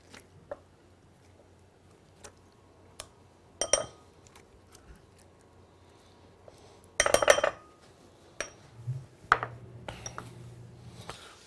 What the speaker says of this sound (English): First, we're going to take the top off a nice vine-ripened tomato. And then we're going to scoop out the inside and discard that.